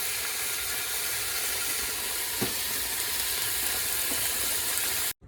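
Fish curry with chopped tomatoes simmers in a pan, giving a steady, close bubbling sizzle that holds evenly throughout and stops abruptly at the end, with no talking.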